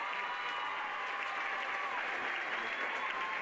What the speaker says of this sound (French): j'ai envie de l'applaudir, c'est Jeanne Breuil